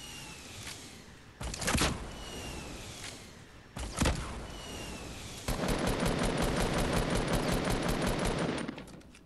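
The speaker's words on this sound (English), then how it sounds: "Okay, rockets coming out." Rockets firing in Fortnite: two sharp whooshing launches a couple of seconds apart, followed by a sustained loud rapid burst of repeated blasts lasting several seconds.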